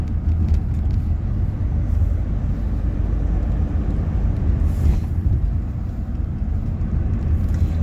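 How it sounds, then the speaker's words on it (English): Road traffic rumbles past in the evening on a road below, a steady low drone of engines and tyres heard from a distance, with no talking. "a bit more traffic and that down there."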